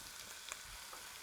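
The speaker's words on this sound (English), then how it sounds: "And I'd like to just cook that in a little bit of olive oil just to get it nice and brown." Ground venison sizzles faintly in olive oil in a pan as it browns, a soft, steady frying hiss with a small clink of stirring.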